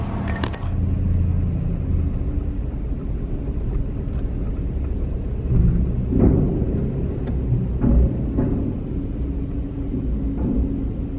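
A Ford F-350 pickup truck pulls a heavily loaded trailer, its engine a steady low rumble from inside the cab with a few faint clunks and bumps, no talk.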